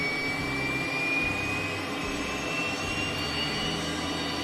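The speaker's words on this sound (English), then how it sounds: "Left engine's up and running." The left engine of a simulated Cessna T-37B Tweet military jet trainer runs steadily in Microsoft Flight Simulator, giving a constant loud turbine roar with a high whine on top.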